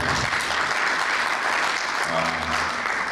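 An audience at a bank's annual general meeting breaks into sustained applause, a dense continuous clatter of many hands, loud and even, with a voice briefly audible near the end.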